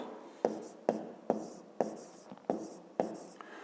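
Pen strokes on paper during a fifth-grade maths exercise, about six short scratchy bursts in a steady rhythm, close and fairly quiet, with no talk.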